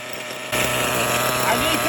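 A Kyosho Foxx RC car's nitro motor idles close by with a steady, buzzing drone that jumps louder after a brief quieter start and holds even.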